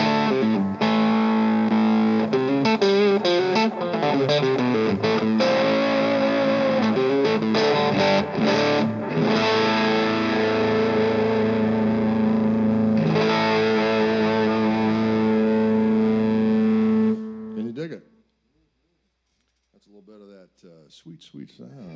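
A heavily distorted electric guitar fitted with Fishman pickups plays a loud, sustained riff with bent notes and ringing chords for about seventeen seconds before the sound cuts out and a little faint playing follows.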